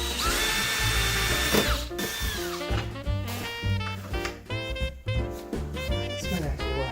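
A power drill runs near at hand in a garage, whining at changing speeds as it bores holes in the wall, with a few brief pauses between bursts and no talk.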